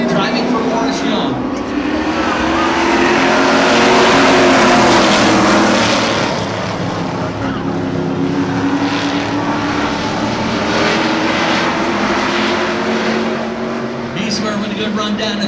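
Super street stock cars race at Wiscasset Speedway, their engines roaring loud and continuous as the pack drives through the turns, with a race announcer talking over the noise.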